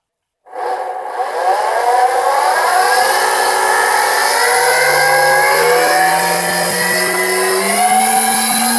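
A Foredom flexible-shaft rotary tool motor switches on and winds up to maximum speed, a loud close whine whose pitch climbs over several seconds and then holds steady.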